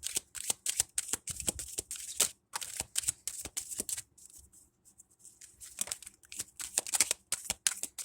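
Tarot cards being shuffled, a run of crisp riffling flicks and slaps in quick irregular bursts, close and fairly quiet, with a short pause midway and no talking.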